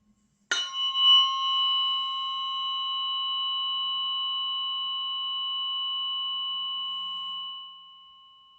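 Struck tuning fork ringing with a single clear sustained tone and faint overtones, sounding close and steady for about seven seconds before fading, alone without talk.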